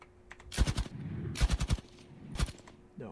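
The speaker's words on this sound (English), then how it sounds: "I'm gonna try and shoot at this guy with the machine gun here" The loader's machine gun fires from a tank in the game Armoured Commander II: three short bursts of rapid shots with quiet gaps between them, loud and close, with no voices.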